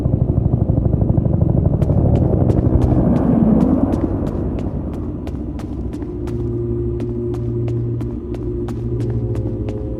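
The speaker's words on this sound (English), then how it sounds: "Is that the evac chopper?" A helicopter in the horror game Peridium sounds as a loud, rapid rotor chop over a deep rumble, then settles into a steadier throb with a low hum.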